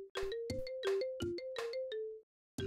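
iPhone ringtone remix music from a video game level: the familiar marimba-style melody layered with punchy percussive hits, stopping briefly before the beat kicks back in, loud and without speech.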